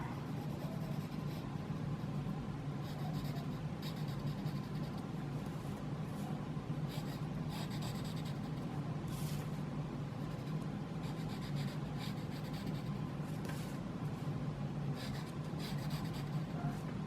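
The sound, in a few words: pencil drawing and shading on paper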